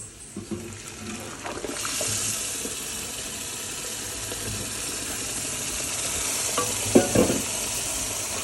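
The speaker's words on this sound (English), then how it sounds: "we're going to go ahead and add all of the tomatoes that we pureed in the little machine back there" Pureed tomatoes going into a hot pot for New Orleans red gravy bring a steady, close sizzle and hiss that swells after a couple of seconds, with a few sharper spoon knocks near the end.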